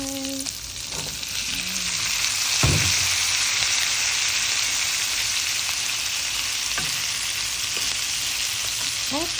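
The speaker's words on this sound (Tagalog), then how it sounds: "At ako na ilagay ang aking gulay." Vegetables hit a hot pan and sizzle steadily, a loud continuous frying hiss with a few stirring clatters, close by and with no talk over it.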